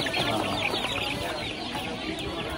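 Chicks and chickens at a busy poultry market in Beruniy cluck and chatter in a dense, steady, close-up din with no pauses.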